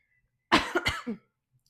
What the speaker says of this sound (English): really sorry about the coughing